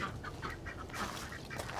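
Soft, steady clucking from several hens, fairly faint and continuous, with no talking.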